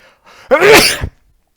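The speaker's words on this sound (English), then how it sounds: "that sneeze was difficult" A single sharp, loud sneeze up close, preceded by a short inhale, then silence.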